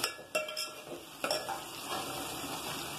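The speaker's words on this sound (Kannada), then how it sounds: "ಈರುಳ್ಳಿ ಮತ್ತೆ ಹಸಿಮೆಣಸಿನ ಹಾಕೋತೀನಿ ರೀ ಹಾಕೋಣ ಸ್ವಲ್ಪ ಹೊತ್ತು ಫ್ರೈ ಮಾಡಿವು" Onion and green chilli frying in a pan for a mushroom biryani, heard as a steady close sizzle with a few sharp clinks and scrapes of a spoon against the pan, fairly quiet, with no talking.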